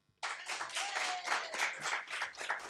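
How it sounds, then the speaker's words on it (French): Audience applause breaks out after a short silence, a dense burst of many hands clapping in a theatre setting, steady and lively for a couple of seconds. "Sous vos applaudissements."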